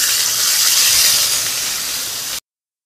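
Onions hit hot oil already holding garlic and let out a loud, steady hiss of sizzling that fades slightly before cutting off abruptly.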